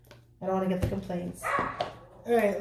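A dog barks and yips in short bursts close by, mixed in with a person talking over it indoors.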